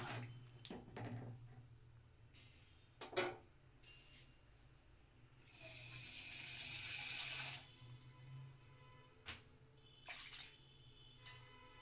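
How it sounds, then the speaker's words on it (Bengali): Water poured into a cooking pot for alur dom, a potato curry, a short steady splashing pour of about two seconds among quiet kitchen clinks and taps, close and without speech. "এরপর জল দিয়ে দিলাম।"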